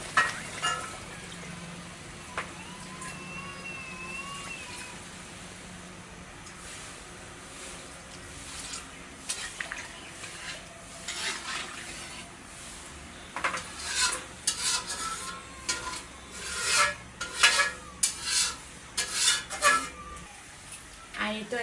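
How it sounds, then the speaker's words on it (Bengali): Pangas fish pieces browned in a spice masala in a frying pan as broth is poured in, with a steady sizzle, spoon stirring and scraping against the pan, and occasional clinks under some talk. "আর এখন কিন্তু এই যে ঝোল দিয়ে দেবো"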